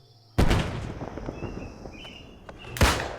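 Two heavy blasts of a thrown grenade in Fallout 4, the first sharp boom trailing into rumbling debris and a second loud explosion near the end, both close and forceful with no talk.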